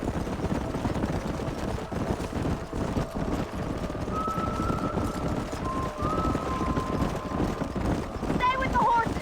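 Horses run in the Red Dead Redemption video game, a dense, continuous clatter of hooves from a herd, with a voice speaking over it and a brief whinny near the end.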